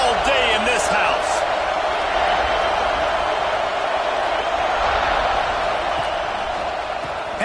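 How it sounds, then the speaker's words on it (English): A packed stadium crowd at a SCAR vs UCF football game keeps up a loud, continuous roar, with a commentator talking over it throughout. "This crowd trying to show them what it's going to be like all day in this house."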